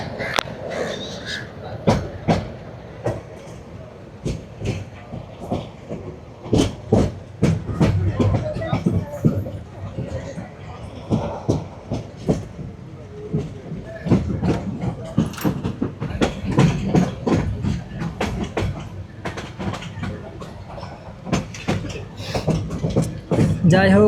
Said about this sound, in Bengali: রাইট টাইমে কমলাপুর থেকে বেরিয়ে যাচ্ছি চট্টগ্রামের উদ্দেশ্যে মহানগর প্রভাতী 704 নম্বর ট্রেন